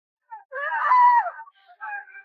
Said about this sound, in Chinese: 后面的人接连发出惨叫